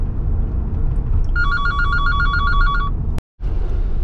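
A phone rings with an incoming call, a steady electronic ringtone pattern repeating for a couple of seconds over constant road and engine noise inside a van, then cutting off abruptly.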